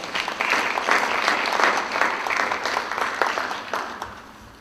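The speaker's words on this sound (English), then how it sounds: "let's give him another warm round of applause" A roomful of people applaud warmly, steady clapping that swells and then tapers off toward the end.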